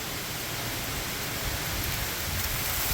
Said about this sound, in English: Man, that wind is blowing.